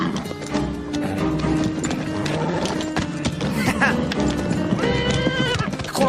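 Horses clip-clop and whinny through the scene, hooves beating a busy rhythm while neighs rise above, close and loud, mixed under people speaking throughout.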